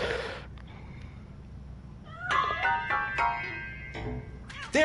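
A cat meows several times in the video game RoboCop Rogue City, clear mid-distance cries with a short pause between them over a low background hum.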